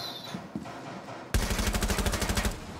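Rapid automatic gunfire in Rainbow Six Siege bursts in loudly and close after a quieter stretch of faint movement, a sustained fast stream of shots with a steady rhythm.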